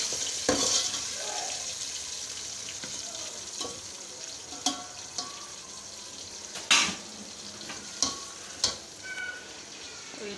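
Keema with onions in a pan: continuous close sizzling with intermittent sharp clinks and scrapes of a spoon against the pan, no talk.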